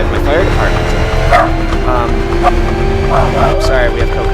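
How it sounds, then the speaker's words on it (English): A dog barks and yips a few times indoors, sitting under steady talk and background noise from a racing broadcast. "That's what your dog thinks of PSR TV commentary."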